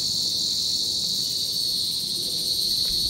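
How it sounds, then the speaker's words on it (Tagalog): Crickets chirp steadily outdoors at Crosswinds in Tagaytay, forming a dense, continuous high trill that fills the scene without pause and with no one speaking. "Naririnig nyo po yan. Mga kuliglig."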